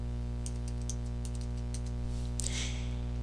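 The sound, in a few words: typing Notepad on a computer keyboard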